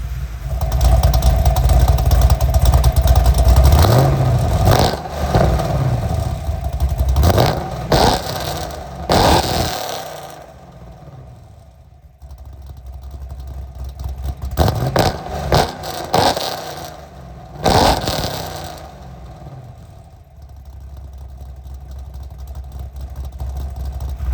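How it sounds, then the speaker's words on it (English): A car engine with a damaged exhaust revs hard several times, roaring up and dropping back to a rumbling idle between bursts, loud and close. "there's just something about revving your car"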